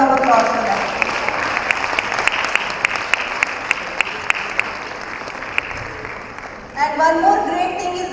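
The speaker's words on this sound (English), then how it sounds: "Please give her a round of applause for that." A crowd at a main stage event applauds steadily for several seconds, dense clapping with a few sharper individual claps, then fades and gives way to a voice speaking.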